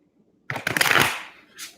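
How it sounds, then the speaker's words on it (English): A brief burst of tarot cards being riffled and shuffled up close, a crisp papery rustle followed by a softer flick. "I do one more shuffle."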